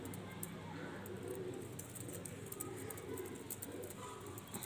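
A breeder pigeon coos in low, rolling murmurs at close range over a steady background hiss, with faint scattered taps and no clear talk.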